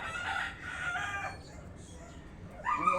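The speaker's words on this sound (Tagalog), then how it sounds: "imong madungog manok ug kaning langgam" A rooster crows loudly twice nearby, the second call cut short, over steady outdoor background noise.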